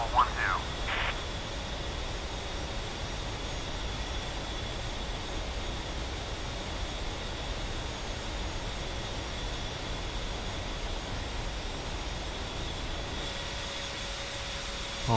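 An A-10C jet on final approach to runway 21 at Nellis Air Force Base in DCS World, a steady loud engine drone with a continuous whine, unbroken for the whole stretch.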